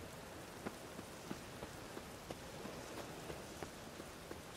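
Rain falls steadily in the Witcher 3: Wild Hunt video game. A soft, constant hiss carries scattered louder drops pattering on a surface, and the whole scene stays quiet with no voices.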